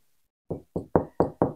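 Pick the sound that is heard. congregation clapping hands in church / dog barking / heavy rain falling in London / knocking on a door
knocking on a door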